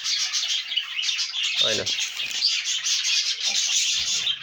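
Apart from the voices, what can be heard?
birds chirping in a nest box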